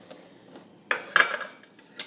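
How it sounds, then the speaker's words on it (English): Metal baking pans for banana bread are handled on a kitchen counter, making a few scattered clanks and scrapes, moderately loud and close, with no talking. "now all we're gonna do is we're just gonna grease the pans"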